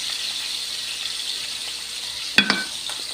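Food sizzles in a pan while being sautéed, a steady hiss broken by a couple of sharp clinks and spatters near the end.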